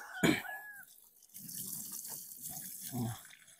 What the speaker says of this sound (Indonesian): setelah kita memberikan air pada lubangnya